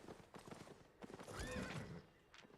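A gallant horse mount in Albion Online trots with quick hoofbeats and lets out a clear neigh midway, faint and close with no voices over it.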